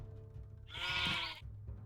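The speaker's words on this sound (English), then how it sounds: "Oh, 2 baby sheep." A baby sheep in the farming game Clanfolk gives one clear, high bleat that lasts over half a second over quiet background game ambience.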